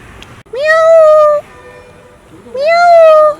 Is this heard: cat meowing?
yes